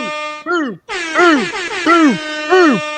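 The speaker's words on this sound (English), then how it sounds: "Let me go ahead and get him his air horn." A loud air horn blares in repeated rising-and-falling wails, four or five blasts in quick succession, close and piercing.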